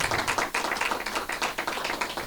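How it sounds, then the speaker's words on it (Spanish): A church congregation applauds during a Sunday family service, dense steady clapping from many hands filling the room with no talk over it. "Dale un aplauso al Rey"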